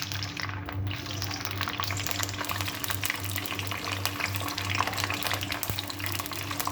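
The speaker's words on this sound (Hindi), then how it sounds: "टमाटरों को हमने अच्छी तरह से फ्राई कर लेना है।" Three cut tomatoes frying in half a cup of hot oil for a murgh karahi: steady, close sizzling and crackling with a low hum underneath, continuous throughout.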